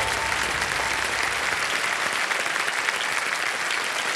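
A studio audience on the KBC game show breaks into sustained applause for a contestant, a dense, even wash of clapping that holds steady throughout.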